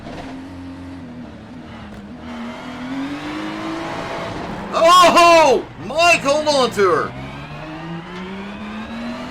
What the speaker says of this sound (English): It sounded like Mike was struggling with the car